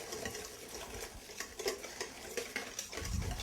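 Hot cream whisked a little at a time into egg yolks in a bowl set on a towel, a quick, continuous scraping and clinking of the whisk close by.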